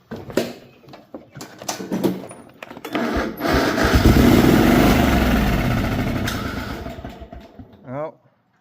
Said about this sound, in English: But let's see if we can get it fired up again.